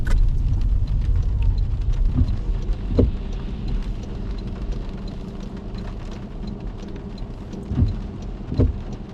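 Steady rain falls outdoors around a parked car on a drizzly New Zealand shopping street, a continuous broadband hiss with a few louder thumps and splashes, and no talk heard.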